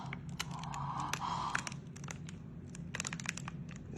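A computer keyboard with glued keys is wiggled by hand, giving scattered clicks, rattles and crackly creaks, close and fairly quiet over a low hum.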